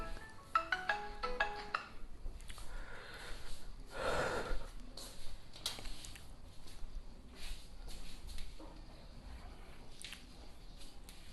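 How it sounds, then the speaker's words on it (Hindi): A phone ringtone chirps in short bursts at the start of a chemistry lecture, followed by breathy handling noises and a nearby rustle. "फोन है भाई, कौन फोन कर रहा है?"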